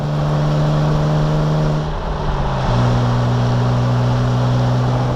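A Jeep with a PSC Hydro Assist steering upgrade accelerating onto the freeway, a loud steady engine drone that holds a pitch, then steps through a shift and climbs again, with heavy road and wind roar close by.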